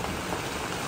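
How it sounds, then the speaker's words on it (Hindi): Small hailstones pour down outdoors in a dense, steady, close patter of ice striking surfaces, continuous and fairly loud throughout with no voices. "इतने ओले पड़े"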